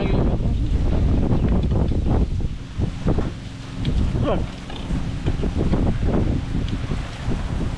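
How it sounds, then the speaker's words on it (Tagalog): Strong wind buffets the microphone outdoors during outdoor cooking, a loud continuous rumbling gust with fluctuating surges, and a voice briefly speaks over it. "lakas ng hangin. Grabe."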